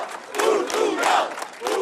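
A crowd of demonstrators outside the Portuguese parliament cheers and shouts in loud, surging waves as PSD and CDS deputies appear, with voices rising and falling over a dense roar.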